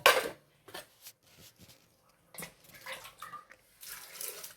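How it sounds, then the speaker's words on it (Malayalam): Water splashes into a pressure cooker pot for a kootukari curry, in short irregular pouring bursts with a louder gush at the start and near the end, amid kitchen clatter. "വെള്ളം ഒഴിച്ചിട്ട്"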